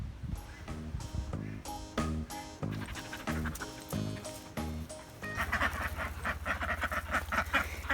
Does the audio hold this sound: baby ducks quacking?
yes